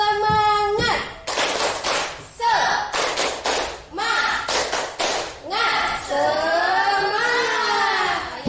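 Students in a classroom perform a rhythmic spirit clap, bursts of group claps and thumps falling in a set pattern, alternating with a leader's voice and the group chanting back in unison.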